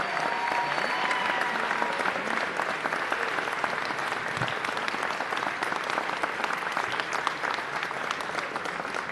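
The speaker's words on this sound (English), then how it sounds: "a round of applause for all our newly promoted chiefs and commissioners" A large audience at an NYPD promotion ceremony applauds newly promoted chiefs and commissioners, a dense, even roar of clapping that holds steady for the full stretch without breaks.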